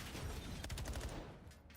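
Rapid bursts of gunfire from a Call of Duty League match, dense low thumping shots rolling continuously with no voices over them.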